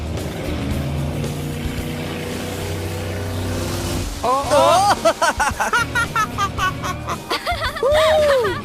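Cars drift in circles through water with a low, steady engine drone for several seconds, then voices laugh and chatter loudly over the splashing motor noise.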